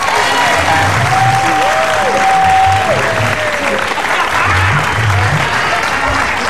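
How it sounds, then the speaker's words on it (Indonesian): A studio audience on an Indonesian TV comedy talk show claps steadily and loudly for several seconds, a dense continuous patter with a voice speaking over it. "tepuk tangan dong"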